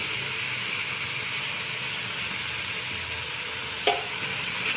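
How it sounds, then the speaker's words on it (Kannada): A handful of mint leaves sizzles steadily in a hot pan for green mutton chops, with a constant loud frying hiss and a single utensil clink as they are stirred near the end. "ಅದು ಸ್ವಲ್ಪ ಚೆನ್ನಾಗಿ ಫ್ರೈ ಮಾಡ್ಕೊಳ್ಳೋಣ."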